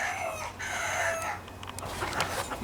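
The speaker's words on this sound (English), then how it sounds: "Chickens!" Chickens clucking with a rooster crowing nearby, set against steady low background hum in a workshop where a junkyard Craftsman riding lawnmower's 42-inch cutting deck is being restored.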